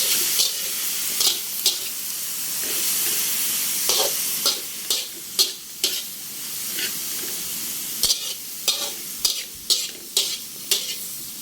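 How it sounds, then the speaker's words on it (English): Shrimp, bean sprouts and vegetables are stirred in a frying pan over a steady hiss of sizzling, with a utensil scraping and tapping the pan in repeated sharp strokes, close and clear. "So I'm just gonna stir and mix the shrimp and vegetables."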